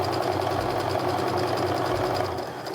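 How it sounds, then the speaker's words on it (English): A sewing machine stitches a quarter-inch seam on a quilt block, running in a steady, continuous motor hum with a fast needle rhythm and no talking. "I'm going to go ahead and sew down"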